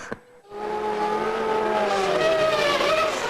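Formula 1 race cars on the formation lap at a new street circuit, engines rising and droning loudly in a sustained roar of several cars, following a brief near-silent moment at the start.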